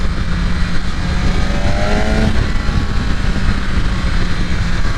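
A BMW S1000RR superbike with a tuned ECU cruises at low speed, its engine a loud, steady drone under heavy wind rush, with a brief rising whine midway.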